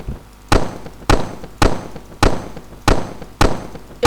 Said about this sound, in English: tried to make an explosion sound in my microphone, and I added a lot of post processing